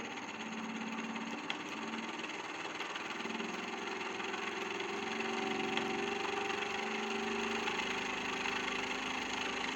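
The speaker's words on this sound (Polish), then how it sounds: "Silnik uzyskuje coraz większą rotację," A small electric motor spinning at maximum speed, drawing about 105 mA, whirs steadily, a continuous humming drone with a buzzy mechanical edge and no talk.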